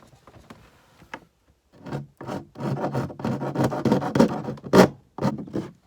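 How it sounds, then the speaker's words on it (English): A hand file rasps along the edge of a plastic caravan C-Line USB socket module to trim it, with scraping strokes that start sparse and grow into a dense run of close, fairly loud rubbing. "Needs trimming a little bit. In fact, I might do that with the file."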